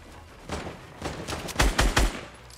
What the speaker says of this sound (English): they're getting sniped at by the other team